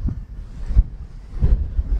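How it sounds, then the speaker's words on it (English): Gusting wind on Sanctuary Ridge golf course buffets the microphone in low, rolling rumbles that swell and fade, with stronger bursts near the middle and the end and no voices. "Into the teeth of the wind there."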